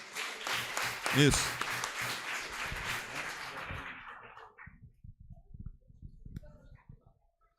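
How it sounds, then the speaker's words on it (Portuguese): A church congregation at a family gathering applauds, a burst of clapping that swells then fades out over several seconds, followed by scattered taps and a short spoken word. "Você pode aplaudir ao Senhor?"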